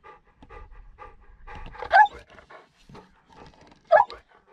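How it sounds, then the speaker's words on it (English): A dog pants close by on a riverbank at Sutton Bridge on the River Nene during a sea fishing outing, quick rhythmic breaths with two louder whimpering bursts, and no talk over it. "You can probably hear him panting."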